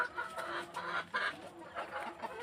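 Fayoumi hens on a poultry farm cluck softly and intermittently in a quiet space, a few short calls overlapping at low volume near egg-laying crates.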